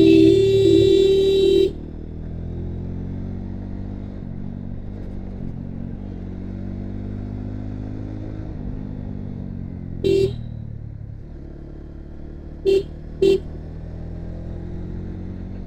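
A cruiser motorcycle runs steadily along a road in Sreemongol, its engine a continuous low drone throughout, with a louder burst at the start and a few short sharp clatters or horn-like blips near the end.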